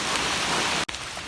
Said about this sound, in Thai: นี่ฝนตกหนัก